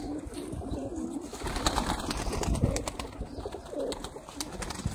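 Sialkot pigeons coo softly and repeatedly, moderately distant against a busy outdoor background with scattered sharp clicks and bird noises.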